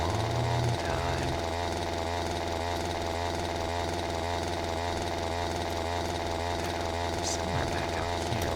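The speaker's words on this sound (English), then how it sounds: "like the sound of chainsaws, chat, because you're going to be hearing it for a long time" Chainsaws in the horror game Haunted Dreams run without a break, a loud, steady droning engine buzz that fills the whole stretch with no pauses.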